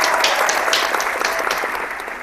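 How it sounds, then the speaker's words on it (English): Audience applause in a short, steady burst of dense clapping, loud and continuous with no voices on top. "Let's give a round of applause to the Spanx"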